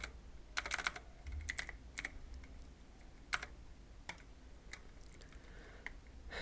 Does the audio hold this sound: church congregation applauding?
no